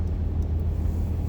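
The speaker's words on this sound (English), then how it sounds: "sand truck in front of me that decided he wanted to cut in front of me" A sand truck drives just ahead in traffic, its low steady engine rumble filling the cabin of a following car, with no voices.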